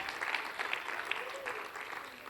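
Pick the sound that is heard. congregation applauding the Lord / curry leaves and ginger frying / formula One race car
congregation applauding the Lord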